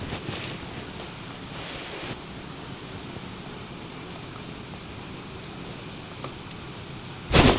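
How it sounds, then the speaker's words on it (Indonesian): Strong wind roars steadily near a road leading to a haunted cemetery at night, a broad constant rush that buffets the microphone, with a sharp loud gust burst at the very end. "angin besar"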